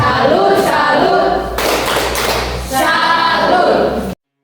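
A group of school students at an orientation assembly performs a rhythmic 'tepuk salut' clap pattern, with bursts of sharp hand claps in quick sequence and a louder mid-section, ending abruptly in silence.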